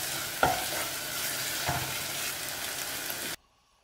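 Ginger garlic paste being stirred in a pan with softened tomatoes, frying with a steady sizzle broken by a couple of sharp spoon scrapes, close up, before cutting to silence.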